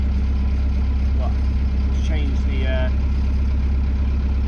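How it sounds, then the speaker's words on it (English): A narrowboat engine idles with a loud, steady low rumble throughout, while voices talk briefly over it. "Give it a few revs and I'll put it into neutral."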